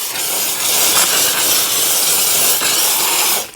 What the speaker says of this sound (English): compared to professional steamers where you really get mostly a lot of steam